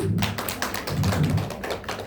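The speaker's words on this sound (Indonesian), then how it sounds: "Kasih tepuk tangan dulu untuk Pak Wawan." Audience applause in a teacher-training peer teaching session, a dense steady patter of many hands clapping close by for about two seconds with no talking.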